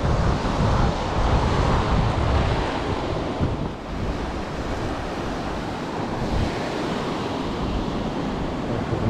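Rough Atlantic surf at Praia do Francês in Marechal Deodoro, Alagoas, loud continuous crashing and rushing of waves mixed with heavy wind buffeting the microphone, with no one talking.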